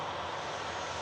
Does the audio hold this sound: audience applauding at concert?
no